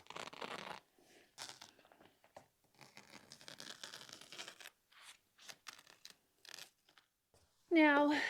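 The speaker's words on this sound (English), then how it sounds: "You can use a pair of sharp scissors or a razor blade." Sharp scissors snip and tear through excess sofa cushion fabric near stapled edges on a vintage sofa, quiet intermittent cutting and rustling strokes close by, ending in a louder squeaky scrape.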